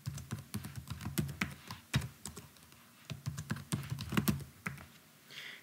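Rapid, uneven keystrokes on a computer keyboard as a new account password is entered, close and clear with short pauses between bursts of clicking.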